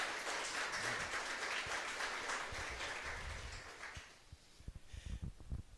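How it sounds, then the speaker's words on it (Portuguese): Sermon audience applauds, a dense wash of clapping that starts moderately loud and fades after a few seconds into sparse, scattered claps. "Pode aplaudir em nome de Jesus"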